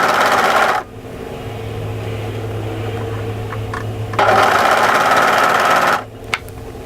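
A sewing machine stitches dress fabric in two loud, rapid whirring bursts separated by a quieter pause, close up and without talk.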